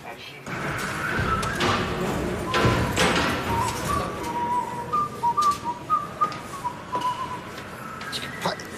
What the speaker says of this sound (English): Pack up, will you, whistling?